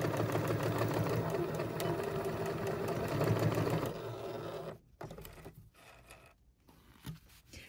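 A sewing machine stitches fabric for a cable caddy, running in a steady mechanical whir for about four seconds before stopping, followed by quieter handling noises and brief gaps.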